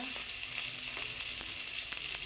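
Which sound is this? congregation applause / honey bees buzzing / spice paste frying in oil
spice paste frying in oil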